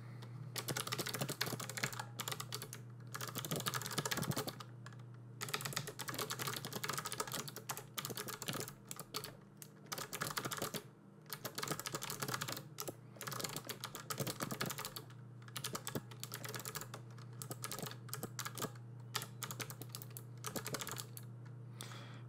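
Fast, uneven clicking of computer keyboard keys in bursts of typing with short pauses, close and fairly quiet over a steady low hum, with no talk.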